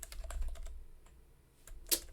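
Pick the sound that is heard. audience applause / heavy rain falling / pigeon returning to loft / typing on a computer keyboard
typing on a computer keyboard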